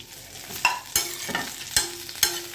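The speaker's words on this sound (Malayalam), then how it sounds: "ഒരു പാനിലേക്ക് കുറച്ച് എണ്ണ ഒഴിച്ചു കൊടുക്കാം എന്നിട്ട് അതിലേക്ക് നമുക്ക് കറിവേപ്പില കുറച്ച് ഫ്രൈ ചെയ്തെടുക്കുക" Curry leaves fried in a little oil in a pan, a soft sizzle broken by a few sharp spoon clicks and scrapes against the pan at irregular intervals, close but fairly quiet with no voices.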